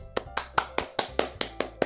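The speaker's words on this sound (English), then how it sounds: "I'm the first to start applauding." Applause in the Doki Doki Literature Club video game, a sparse run of about nine sharp, evenly spaced claps, close and clear, like a single pair of hands.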